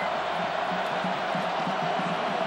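Steady, dense roar of a large stadium crowd at an Ohio State vs Michigan college football game in 2006, a continuous broadband wash with no breaks or distinct voices across the whole stretch.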